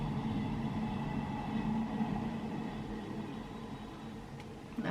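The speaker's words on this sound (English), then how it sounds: "Excuse me, train, have you quite?" A passing train produces a steady, low, broad rumble with a faint hiss on top, moderately distant and continuous, easing slightly toward the end.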